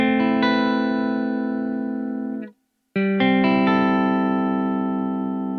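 Heavily distorted high-gain electric guitar through an Engl Powerball II amp with the bright switch off, loud sustained chords ringing with a brief silent break near the middle before the playing resumes.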